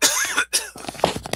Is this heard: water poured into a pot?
no